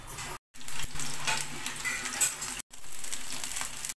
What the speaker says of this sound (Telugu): పచ్చి మిర్చి అవి ఫ్రై చేసుకోవాలి